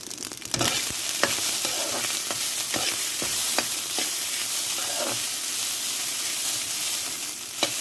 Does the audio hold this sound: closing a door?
no